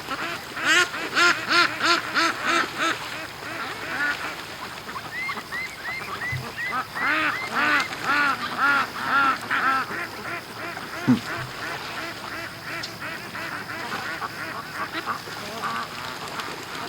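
Several happy ducks quack in busy, overlapping bursts at a creek during the morning feeding rush, steady and close throughout with a few louder honking calls mixed in.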